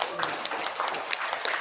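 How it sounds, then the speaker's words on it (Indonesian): An audience claps in a lecture hall, a dense patter of many hands that carries through the whole brief moment at moderate level, fairly close. "Tepuk tangan buat silika."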